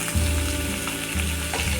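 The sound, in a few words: chopped onions frying in oil with mustard seeds and lentils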